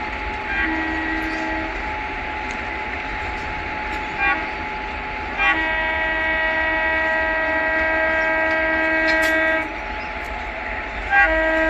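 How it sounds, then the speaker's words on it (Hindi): A train sounds its horn in long sustained blasts, loud and near, with several rises and changes in pitch over a steady rumble. The train is the Agra Fort–Ajmer superfast express passing during a crossing near Bandikui. "एक और ट्रेन आ रही है 22/988 आगरा अजमेर सुपरफास्ट एक्सप्रेस साथ क्रॉसिंग होने वाली है"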